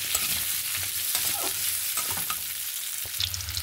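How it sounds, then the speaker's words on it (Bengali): Chopped potatoes and onions fry in a pan for a prawn and pumpkin curry, with a steady, close sizzle and hiss broken by occasional stirring scrapes, and no voices. "টুকরো করে কেটে রাখা আলু দিয়ে 1 মিনিট মতন খুব ভালোভাবে আলু আর পেঁয়াজটাকে ভেজে নেব"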